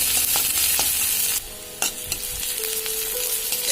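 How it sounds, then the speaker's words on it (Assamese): Onion with chilli and panch phoron spices frying in mustard oil, a loud close crackling sizzle with occasional clinks and scrapes of a spoon stirring the pan, no talk. "এটুকুৰ পিঁয়াজ আৰু এইখিনি ভালকৈ ভাজি ল'ম"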